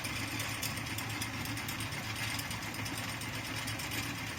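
A small oil extruder runs steadily, giving off a continuous mechanical whirring hum with faint rhythmic ticking, close by and unchanging, with no talking.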